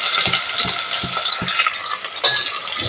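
Onions and green chillies frying in hot oil while being stirred, a loud close sizzle throughout with regular scraping knocks of a spoon against the pan, about four evenly spaced strokes then a few looser ones.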